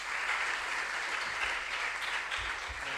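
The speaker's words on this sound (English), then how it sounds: "Oh, you should clap for them." An audience at a junior science and maths quiz contest applauds steadily, a dense wash of clapping that holds at even loudness for a few seconds.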